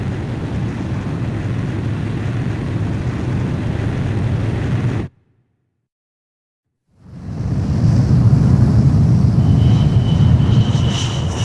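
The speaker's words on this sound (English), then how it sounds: "Aircraft launch confirmed." A jet roars off a ship's catapult in Ace Combat 5: a loud, steady rush of engine and wind noise, a sudden cutout to silence, then the roar swells back in, near and powerful.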